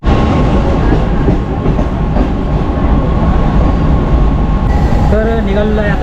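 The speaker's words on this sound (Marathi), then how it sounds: "खोपोली ट्रेनमध्ये बसलो आहे." A Khopoli-bound Mumbai local train rumbles along at speed. Loud, continuous wheel roar and rattle carry steadily from inside the carriage, and a short high squeal joins near the end.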